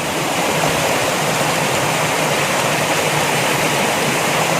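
A waterfall on a hiking trail roars steadily and loud, a dense, unbroken rush of falling water filling the air with no voices heard.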